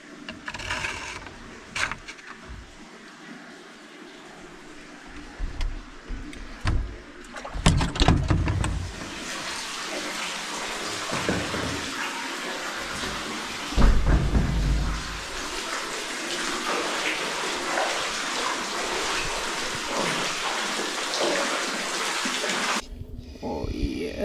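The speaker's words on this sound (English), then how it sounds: "have a spring fed shower so I can clean my hair" Water runs from a spring-fed shower, with a splashing, gushing flow that swells and drops in bursts, fairly close, along with faint handling sounds.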